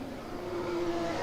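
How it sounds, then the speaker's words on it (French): A distant Formula 1 car engine hums at a fairly steady pitch during practice at the 2022 Hungarian Grand Prix, faint and slightly rising as it goes by, with no voices. "Je sais pas si vous entendez les oscillations du moteur en fait à chaque fois."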